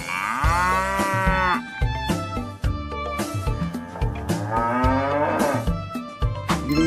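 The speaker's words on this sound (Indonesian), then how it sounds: "Ternyata di sini ada seekor sapi." A toy cow plays loud, drawn-out electronic moos, a few in a row over a bouncy musical jingle, close to the listener.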